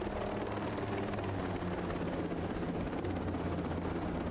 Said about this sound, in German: Alter, der Helikopter hat einen Seitenschlag.